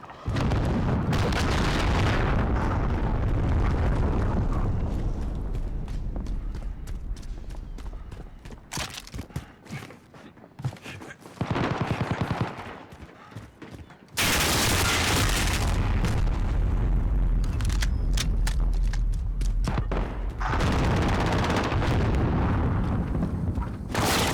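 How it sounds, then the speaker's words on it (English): Cruise missile strikes in Call of Duty Modern Warfare, loud, heavy booming blasts that fill the mix, fall away into a quieter stretch, then erupt again with dense rumbling impacts. "Enemy cruise missile incoming."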